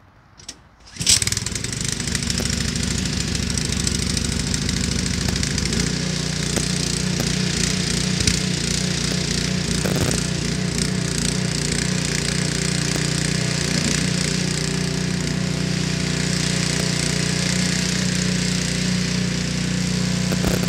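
A Toro PowerClear 721E snowblower started cold with a pull start: a brief quiet moment, then the engine catches and runs on at a loud, steady roar for about twenty seconds, with no voices.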